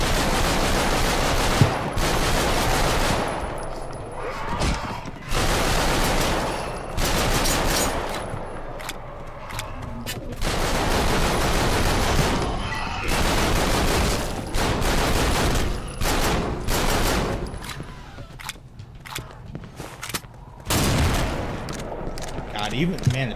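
Rapid bursts of pistol fire in Left 4 Dead 2 on the Nightmare Redux project, repeated loud volleys separated by short pauses, with a player talking between them.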